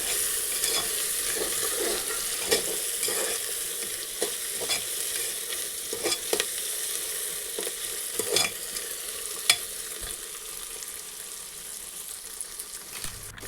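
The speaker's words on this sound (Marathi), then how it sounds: "कांदा भाजून झाल्यावर यामध्ये वटाणे वाटाणे कडक असल्यामुळे ते पण कांद्यासोबत जरा भाजून घ्यायचे आधी" Onion and hard green peas roast together in a pan for khichdi, a steady close sizzle with repeated scraping and stirring clatters of a spatula throughout, no voices.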